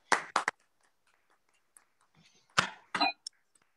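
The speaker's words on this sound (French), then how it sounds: "Je vous demande vraiment un chaleureux applaudissement pour Christian Baroni." Scattered hand claps from an audience at a French talk event, a few sharp bursts separated by quiet gaps rather than sustained applause.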